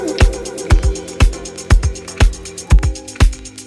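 Obscure vinyl atmosphere run through slapback echo and an auto filter, with sharp percussive thumps repeating in a steady rhythm over a hazy, crackling melodic bed.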